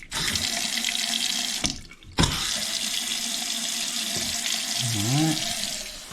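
Water gushes steadily from a newly installed bathroom faucet into a sink, loud and close, briefly cut off for a moment then running again, with a short voice sound near the end.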